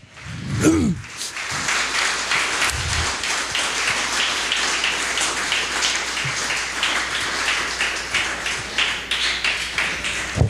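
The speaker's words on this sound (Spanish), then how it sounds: "Denle un aplauso fuerte al Señor" A church congregation applauds during a worship service, dense continuous clapping that runs for about ten seconds at a steady level after a brief voice at the start.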